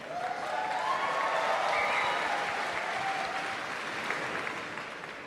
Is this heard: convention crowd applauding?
yes